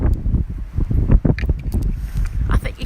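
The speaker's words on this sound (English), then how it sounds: "it's very windy, and I know it's not a professional microphone which dubs out the wind" Wind buffets an outdoor, non-professional microphone in a garden among purple azaleas, producing loud, continuous low rumbling gusts with irregular bursts throughout.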